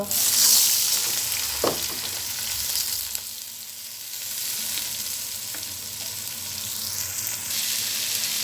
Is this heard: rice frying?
yes